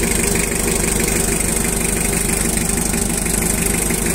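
A Mitsubishi 4DR7 diesel engine idles smoothly, a loud, close and even rhythmic chugging that holds steady for the whole stretch with no voices over it.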